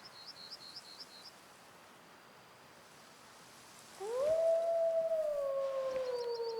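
A wolf howl from the hunting game Way of the Hunter rises mid-clip as one long sustained wavering tone, with faint insect chirps and a quiet outdoor background before it.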